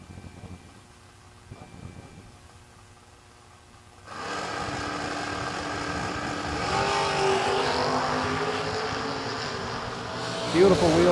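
A Rambler wagon drag race car launches hard off the line, its engine note jumping suddenly from a quiet idle into a loud, sustained roar that holds and swells, with a brief sharp peak near the end.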